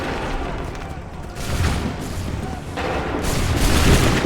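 Musket volleys fired on command in Assassin's Creed 3, a dense crackling fusillade of many shots rolling together in loud broad bursts with distant booms, under shouted orders.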